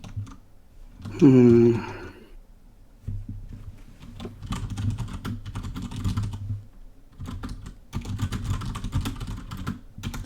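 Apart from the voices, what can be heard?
typing on a computer keyboard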